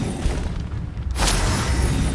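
A fire spell cast in Hogwarts Legacy bursts out as a sudden broadband whoosh and boom about halfway through, then roars on steadily over a low rumbling game soundscape.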